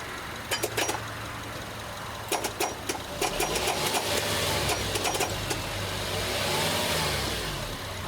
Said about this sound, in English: The starter's hitting the flywheel.